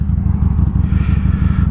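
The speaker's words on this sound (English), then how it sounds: "And I decided to take the Sportster today." A Harley-Davidson Sportster motorcycle rides on a misty day, its engine giving a loud, steady, low throbbing rumble close up that carries through the whole clip.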